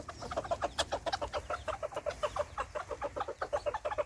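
Several chickens and roosters cluck in quick, overlapping bursts, a busy backyard flock close by with steady rhythmic calls and no talking.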